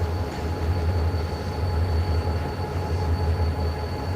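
An eastbound freight train pulling out of the DeButts Classification Yard, a steady low rumble of rolling railcars with a faint high tonal whine running through it.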